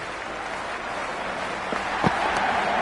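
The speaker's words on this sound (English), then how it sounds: "the ball hasn't even been bowled yet, and this crowd is already making it hard for me to be heard." A virtual stadium crowd in the Cricket 26 video game roars steadily through an IPL match between Mumbai Indians and Royal Challengers Bengaluru, with a continuous loud wash of cheering and applause.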